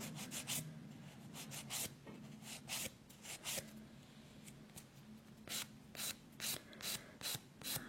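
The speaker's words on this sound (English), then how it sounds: "I'm also just filing down the sides here, and none of this is filing down my actual nail. This is all the gel." A nail file grinds down gel on the sides of fingernails, a quick series of short, close, faint rasping strokes in bursts with brief gaps.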